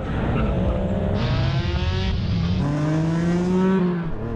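Real-life versions of Gran Turismo race cars, including an NSX and an R34, accelerating hard at a race start, with loud engines rising through gear shifts in a continuous close roar.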